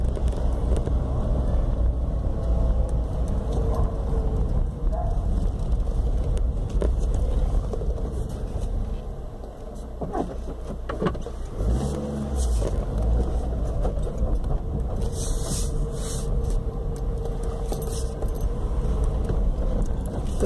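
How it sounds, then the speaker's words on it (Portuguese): Steady traffic noise from cars on a busy street where vehicles stop nearly in the middle of the road, with a continuous low rumble throughout and a few louder passing swells, heard alone without talk. "Tá cheio de carro por aqui, porque muita gente ainda não foi embora"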